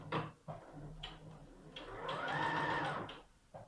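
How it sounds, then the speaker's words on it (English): A sewing machine stitches a fabric seam with a short back stitch: a few quiet mechanical taps, then a sustained whirring run of needle strokes that slows and stops, close and fairly soft. "you start sewing. Have a wee back stitch."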